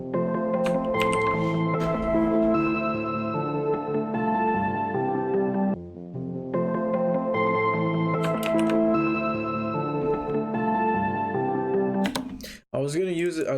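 A synth arpeggio plays inside a dense trap beat built in FL Studio 20. The layered music runs loud and steady, drops out briefly near the middle and cuts off with a short glitchy swirl at the end.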